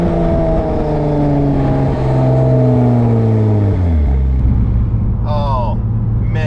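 Tuned Porsche 996 911 Turbo, recently given a boost-raising tune, accelerating hard with a loud, close engine note that climbs through the revs, then drops sharply at a gear change before pulling again.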